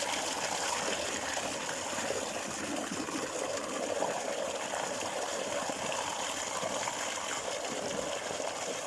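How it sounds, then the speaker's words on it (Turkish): Steady flowing water rushes continuously at a moderate level in a garden, a constant gushing stream with no voices. "kuş sesi, su sesi huzur veriyor insana"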